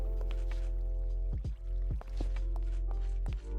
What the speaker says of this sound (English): So I hear water.